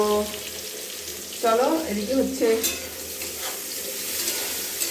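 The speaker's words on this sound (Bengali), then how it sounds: "এগুলো ভেজে নিচ্ছি সব" Food frying in a pan while rice cooks nearby, a steady soft sizzle running throughout with a brief burst of nearby talking in the middle.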